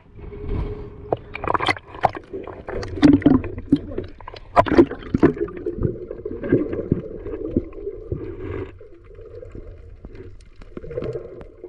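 A small fishing boat out on open water, with a steady low engine drone under irregular splashes and knocks of the hull, plus a few brief sharp bumps through the middle.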